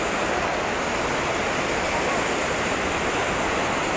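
Water released from the Mandira dam near Rourkela rushes down in a steady, dense roar of falling water, continuous and even at moderate distance with no voices over it.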